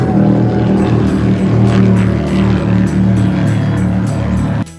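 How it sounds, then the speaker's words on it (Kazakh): A cartoon motorboat engine putters with a steady droning hum and evenly pulsing beats, loud and continuous, then cuts off abruptly at the end. "моторлы қайық,"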